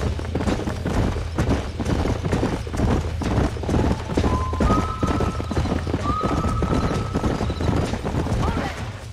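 Loud, rapid hoofbeats from galloping horses in Red Dead Redemption pound in a steady rhythm, with a brief high whinny partway through.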